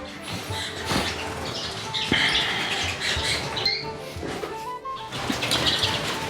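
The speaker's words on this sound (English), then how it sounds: "the top row of cages is where I have all my young lesser Redpolls" Young lesser redpolls in a row of birdroom cages make a dense, continuous chatter of high twittering calls and squeaks, close and fairly loud, with occasional rustling and wing flutters and no talking.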